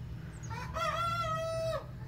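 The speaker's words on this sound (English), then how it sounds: "You can hear my rooster." A rooster crows once, a drawn-out, slightly hoarse call rising and holding before falling off, over a steady low background hum.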